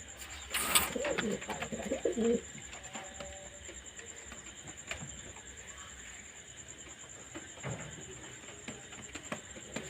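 Domestic pigeons kept in a room coo softly, with a brief louder burst near the start and low, faint calls that fade into a quiet background.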